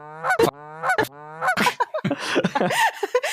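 A voice imitates goose honks, a few nasal honking calls in a row, followed by more vocal noises and laughter.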